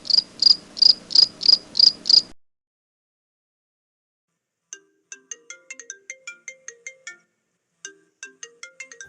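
A phone ringtone for an incoming call in a Tamil comedy cartoon: a clear burst of six rapid beeping pulses, then a pause, then a tinkling melodic chime pattern that repeats in short phrases.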